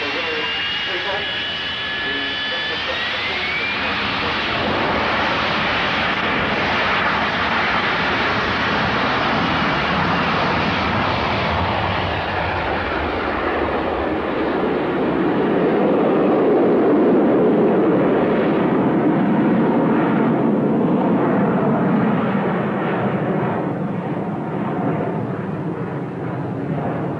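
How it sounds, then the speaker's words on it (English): Jet aircraft taking off conventionally at the 1986 Leicester International Airshow, a loud continuous engine roar that swells and rumbles as it powers away, with a brief rising whine at the start. "So, conventional take-off, we're going to take off."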